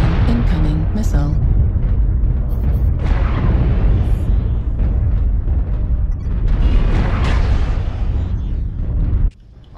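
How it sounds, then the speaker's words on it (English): A loud, sustained rumbling blast in a video game fills nearly ten seconds with booming, crackling debris noise before cutting off abruptly, with speech mixed in. "Incoming missile."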